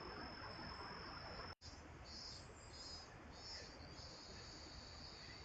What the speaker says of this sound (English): Can you hear the cicadas?